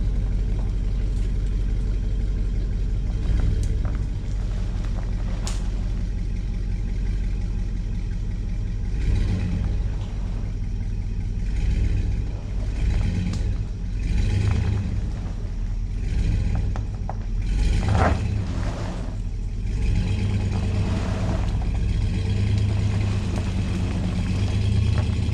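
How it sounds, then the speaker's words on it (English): A Chevrolet Silverado 2500HD pickup's engine rumbles and revs steadily while towing a giant pine log, a loud, continuous drone with several swells in intensity and no voices. "it's hooked up to my truck. So we're gonna try to pull it over."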